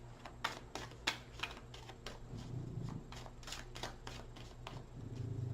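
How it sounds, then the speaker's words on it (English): Tarot cards riffled and shuffled by hand, a series of quick crisp bursts of card flutter at close range, fairly soft over a low steady hum. "Off the top of the deck, one more shuffle."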